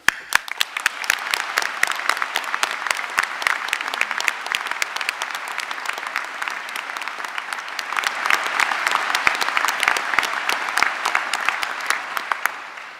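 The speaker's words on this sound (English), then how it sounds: "let's start with a round of applause for yourselves, for the people sitting next to you, and for the journey that you've just completed" A hall full of graduates and guests at a University of Southampton winter graduation ceremony applauds, a thick, sustained wash of many hands clapping that swells slightly toward the end.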